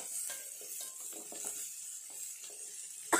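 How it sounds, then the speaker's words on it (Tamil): Small onions frying in a pan for a country-chicken curry, a soft steady sizzle with occasional stirring clicks and scrapes nearby, no voices. "இந்த பக்கம் வெங்காயம் வதங்குது,"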